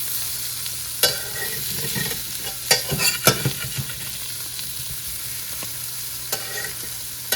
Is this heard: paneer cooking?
yes